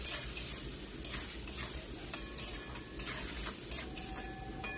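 Eggs stir-fried in a pan with chopped coriander leaves, raw onion and green chili, giving a steady sizzle under repeated quick scrapes and taps of a spatula against the pan, close and alone.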